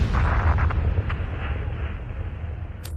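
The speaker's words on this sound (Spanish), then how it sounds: "El mundo recordará para siempre la enorme explosión del vuelo espacial Challenger" A sustained, heavy roar and rumble from the Space Shuttle Challenger explosion after launch, broad and loud at first, with a few sharp cracks and pops, then fading slightly toward the end.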